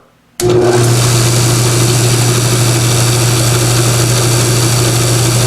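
A 6 volt generator on a generator-alternator-starter tester starts abruptly after a moment of quiet and then spins steadily, giving a loud, constant motor hum and whine that holds without change to the end.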